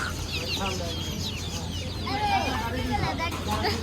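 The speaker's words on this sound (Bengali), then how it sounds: "ওই যে কারেকনাথ মুরগি" A Kadaknath chicken clucks in short, close bursts while people talk over a steady background din.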